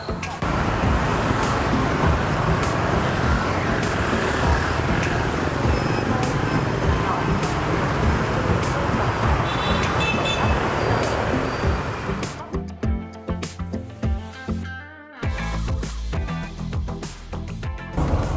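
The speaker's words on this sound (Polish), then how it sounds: "już siedzimy w autobusie, podjechał duży autokar" Ride inside a large coach bus on a Cat Ba tour in Vietnam, with a continuous loud rumble of engine and road noise that gives way to quieter, clattering interior sounds near the end.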